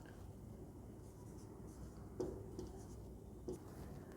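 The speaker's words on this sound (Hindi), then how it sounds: "चलिए लिखते हैं" A pen scratches numbers onto paper during a Hindi maths lesson on the international number system, producing a soft, steady scratching under low room noise with two slightly firmer strokes.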